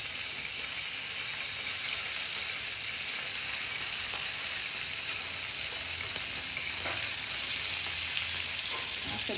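Green curry masala frying in a pan, a steady broadband sizzle that runs without a break and stays close and even throughout.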